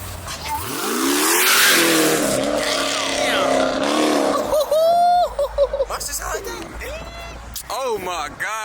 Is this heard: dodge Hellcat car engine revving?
yes